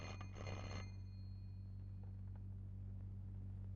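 A telephone rings at a police station in a film scene: a short burst of bell ringing opens, then fades into a low steady hum.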